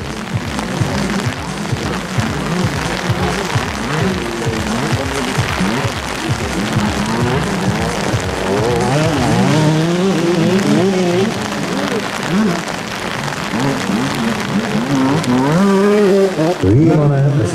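Motocross motorcycles race at a forest track, engines revving and rising and falling in pitch as bikes pass, loud and continuous throughout.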